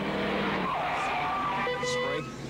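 A race truck at a 1996 NASCAR Sears Auto Center 200 spins around and strikes the outside wall, tires squealing in a long skid with engine roar, an announcer's voice running over it.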